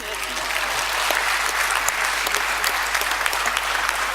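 A conference audience in a hall applauds steadily and loudly, a dense wash of clapping that holds evenly throughout.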